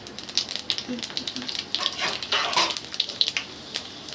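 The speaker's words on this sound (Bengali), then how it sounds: "এগুলো একসঙ্গে দিয়ে দেব দিয়ে একটু লাল করে ভেজে নেব" Whole spices such as cloves and peppercorns crackle and sizzle in hot oil in a pan for a Bengali vegetarian dish, with irregular close pops and hissing bursts at moderate loudness.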